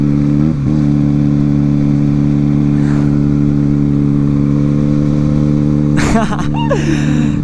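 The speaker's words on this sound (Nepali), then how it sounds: "बिस्तारी नै कुदाएँ देवसन दाईको बाइक" An engine runs at a steady, loud idle with strong low harmonics, then briefly revs up near the end.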